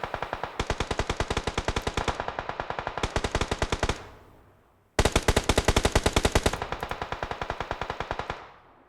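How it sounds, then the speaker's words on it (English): Rapid automatic gunfire exchanged during a video game match, several long bursts of fast, evenly spaced shots, loud and close, with brief gaps and a fading echo between them, no speech. "EXO and Team 9 TXS are exchanging shots over here."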